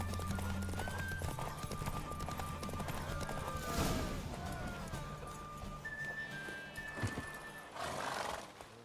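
Geralt's mare in The Witcher 3: hooves clip-clop steadily at close range while the horse whinnies and snorts, with game music and faint ambience underneath.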